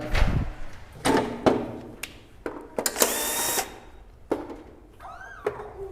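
A cordless drill works on the cover of a condo electrical panel during a wiring inspection, with a short whirring burst among sharp clicks, knocks and handling clatter.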